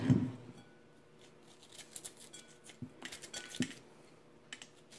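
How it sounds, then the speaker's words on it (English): A spoon scrapes seeds out of a halved butternut squash in a few short, quiet scratchy strokes with soft clicks, close by and with no talking. "you'll need to take a spoon and just scrape them out."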